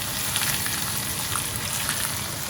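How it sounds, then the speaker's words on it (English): Bacon sizzling on a hot grill while smash burgers, mushrooms and asparagus are cooked: a loud, steady crackling fry with no pauses, up close and without talk. "Hot grill. It's cooking over there."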